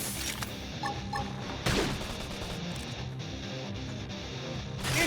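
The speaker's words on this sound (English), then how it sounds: "Flame grenade!" Fiery grenade blast in the sci-fi video game Xenoblade Chronicles X, a loud booming burst among continuous battle noise and layered combat effects, with a second heavy impact near the end.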